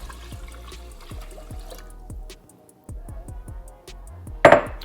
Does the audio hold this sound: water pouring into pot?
yes